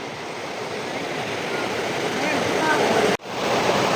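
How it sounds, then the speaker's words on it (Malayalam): Water gurgles and rushes along the Palaruvi waterfalls stream in dense forest, a steady, close, full roar that holds throughout, broken only by a brief dropout near the end. "വെള്ളം ഇങ്ങനെ ഒഴുകി ഗളഗള സൗണ്ടിൽ ഇങ്ങനെ ഒഴുകി പോകുന്നത്."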